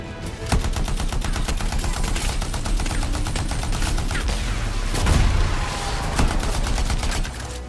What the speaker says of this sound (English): Time to show them that really large gun.